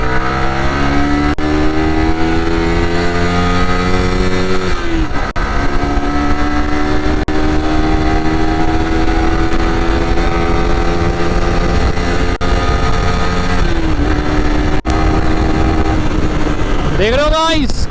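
A Yamaha motorcycle with Variable Valve Actuation, loud and close, revs hard and climbs through the gears, its pitch rising with each run before dropping at the shifts, with a final high rev near the end.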